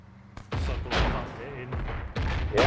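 Explosions and gunfire in a military video game set around a 6th Airborne Division section training, several loud booming bursts in quick succession mixed with voices talking over the game.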